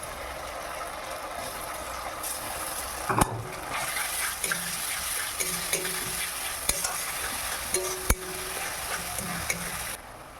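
Chopped onions fry with ginger, onion, garlic and dried chilli pastes in a pan, a steady close sizzle broken by occasional knocks and scrapes of a stirring spoon.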